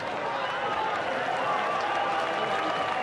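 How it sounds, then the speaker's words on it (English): An Australian football crowd at a Richmond versus Port Adelaide preseason match lets out a sustained, moderately loud cheer after a score, a dense wash of voices from the stands. "And they've scored. And that's the reason for the noise from the crowd."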